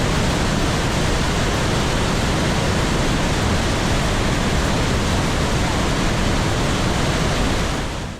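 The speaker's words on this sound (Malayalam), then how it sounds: "നല്ല രസമായിട്ട് വെള്ളം ശരിക്കും കുത്തി ഒഴുകി വരുന്ന ആ ഒരു ഫീല് നമുക്ക് അവിടെ നിന്ന് കിട്ടും" Rheinfall waterfall on the Rhine, a huge torrent rushing and crashing down, heard as a loud, steady, broadband roar that continues unbroken throughout with no voices.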